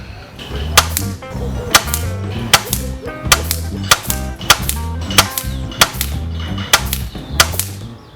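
Air rifles firing .177 JSB KO slugs at a 30-metre range, a steady series of about ten sharp, evenly spaced shots with mechanical clacks between them, close and loud with no talking.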